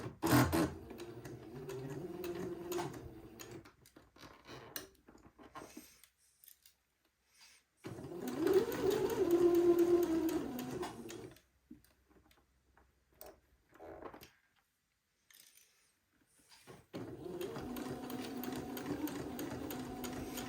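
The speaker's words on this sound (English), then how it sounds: "using a straight stitch, I'm going to sew that entree to each one of the armhole openings" Sewing machine running a straight stitch around the armhole of a baby dress, fast rhythmic whirring in three separate bursts with quiet pauses between them.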